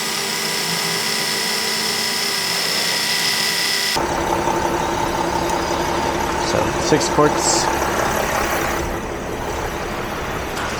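Mercedes Sprinter van engine running steadily during a 7-speed transmission service, a loud close droning hum throughout with a brief voice over it.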